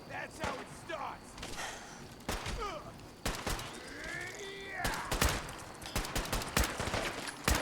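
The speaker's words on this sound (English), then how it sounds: "Why can't I shoot today?" Gunfire in the video game Fallout 4, a run of sharp shots and short bursts scattered through the clip alongside other game effects, with a voice talking over it.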